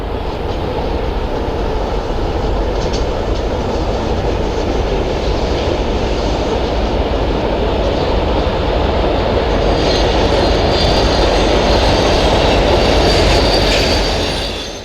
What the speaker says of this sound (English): Southbound Canadian National Freight A432 passes the reservoir at our hometown of Dongola.